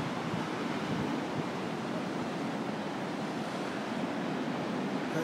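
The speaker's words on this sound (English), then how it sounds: "The ocean's got waves." Ocean surf at Depoe Bay on a sunny, breezy day washes in as a steady broadband roar with wind noise, continuous and fairly loud, with no voices.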